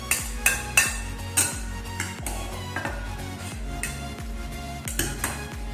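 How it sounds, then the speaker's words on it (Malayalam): Moru curry, a buttermilk curry, being stirred into rice in a dish, giving sparse, close metallic clinks and taps of a spoon at an uneven rhythm, with quieter scraping between them. "നമുക്ക് ചോറിനകത്ത് മോരിയറി ഒഴിച്ച് ഇളക്കിയെടുക്കാം"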